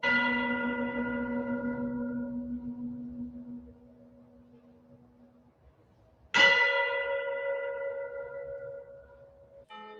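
Two deep church bell strikes, the first ringing out and slowly decaying, the second clanging in about six seconds later with a long resonant hum.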